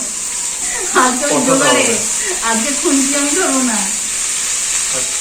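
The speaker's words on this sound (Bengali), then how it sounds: "পেঁয়াজ লাল লাল না হওয়া অবধি এটাকে কষাতে হবে" Onions and tomatoes fry in a pan for a country chicken kosha curry, giving a steady, bright sizzling hiss that runs throughout under a person talking.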